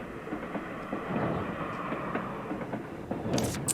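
A moving train rumbles steadily inside the cozy game Little Witch in the Woods, a continuous rolling drone with faint rattling clicks and a brief brighter hiss near the end, with no talking.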